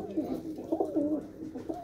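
Pigeons at a pigeon keeper's coop coo in a steady, close run of soft, throaty calls lasting about two seconds, with overlapping phrases and no other sound standing out.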